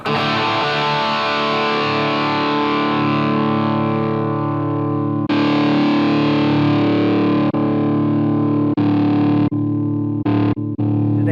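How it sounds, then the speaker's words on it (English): Sustained overdriven electric guitar chords through a Tube Screamer 808 pedal ring out loud and thick with gritty saturation, stopping and restarting in short bursts near the end. "This is a Tube Screamer 808."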